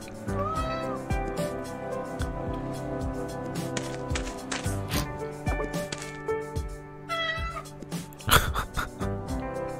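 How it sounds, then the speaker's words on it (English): Several cats meow in short, bright calls scattered over a gentle music bed in the game A Space for the Unbound, some close and some overlapping, with soft squishy sounds between them. "Oh, hey, kitty cat."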